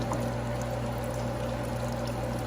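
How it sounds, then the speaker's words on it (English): A StainTrac wood staining machine hums steadily while its spray tube squirts fluid onto the roller, giving a continuous liquid hiss over a constant mechanical drone. "to get the fluid to come out and make sure it's just hitting the roller"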